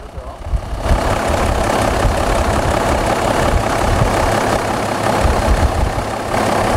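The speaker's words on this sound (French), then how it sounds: "on va mettre en marche le moteur et contrôler la tension que va nous délivrer l'alternateur" A tractor engine starts and settles into a loud, steady idle with a rough knocking rumble that holds for several seconds close by.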